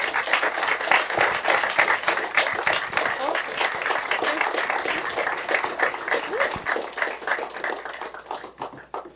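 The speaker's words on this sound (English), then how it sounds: "Let's give them a round of applause." An audience at a city council meeting applauds, a dense burst of clapping that starts loud and gradually thins and fades out.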